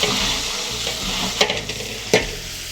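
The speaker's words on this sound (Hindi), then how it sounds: "घी गर्म होने के बाद उसमें शामिल करेंगे 5 ग्राम सब्ज़ इलायची। तकरीबन 10 सेकंड तक इनको फ्राई कर लें।" Green cardamom pods fry in hot ghee with a steady sizzle and hiss, while a spoon stirs the pan and gives two or three sharp scraping clanks against the metal.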